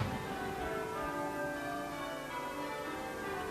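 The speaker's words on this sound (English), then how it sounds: "the peal of church bells throughout the land" Church bells peal across the land for a royal birth in August 1930, a faint, dense wash of overlapping ringing tones that carries on continuously.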